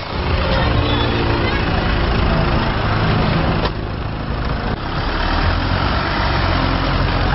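A 2007 Isuzu Crosswind engine runs steadily after an oil treatment that evened out its compression. It is a loud, continuous, close-up rumble with one brief dip in level partway through.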